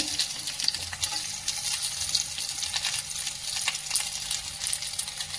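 Onions dropped into hot oil with green chilli, garlic and ginger, a steady close sizzle and crackle of frying with occasional scrapes of a spoon stirring.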